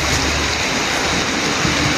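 Steady rain falling outdoors while people walk through it, a dense continuous hiss of drops filling the scene from start to finish with no pauses.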